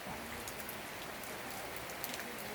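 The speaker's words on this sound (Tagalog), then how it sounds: "wala nang tigil ang ulan dito sa probinsya namin" Steady rain falls and patters on a surface, with scattered drops ticking, even and continuous throughout, in Oriental Mindoro, Philippines.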